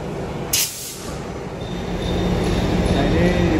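A train moves through Padalarang station in Indonesia, producing a rumbling rail roar that builds slowly, along with faint wheel squeal and a short hiss at the start. Station ambience sits underneath.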